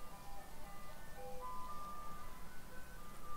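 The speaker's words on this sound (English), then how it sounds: "Ice cream truck is here." An ice cream truck jingle from the video game Outriders plays as a steady, moderately faint looping melody of tonal notes over a constant low background hum, with no talking.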